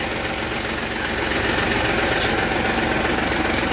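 Big 400-horsepower engine of a Hino 700 truck idling, a loud, steady, dense rumble heard up close and without pause.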